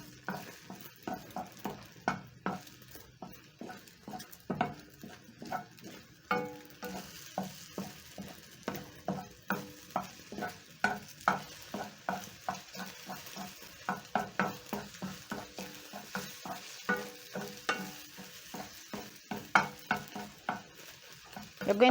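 Eggs fry in a hot cast iron pan over a low flame, a steady sizzle under close, rhythmic stirring and scraping strokes that repeat throughout without any talk.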